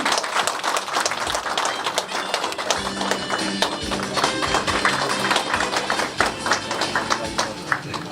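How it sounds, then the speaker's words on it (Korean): Applause from an audience greets a former county governor stepping up to give a congratulatory speech at a campaign office opening, a dense, steady wash of clapping that fills the room throughout with some background sound beneath it. "큰 박수로 맞이해 주시기 바랍니다."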